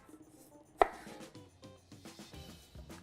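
A 9-inch New West KnifeWorks chef knife slices off the flowering stem end of an onion with one sharp cut on a board, followed by softer scraping and small knocks, close and quiet with no voices.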